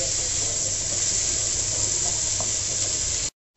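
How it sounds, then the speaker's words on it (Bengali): Spices and ingredients frying in hot oil for a small hilsa fish curry with stems, a steady close sizzle running unbroken for a few seconds before cutting off. "এবার আমি সবগুলো ইনগ্রিডিয়েন্টসকে ভালো করে ভেজে নিই।"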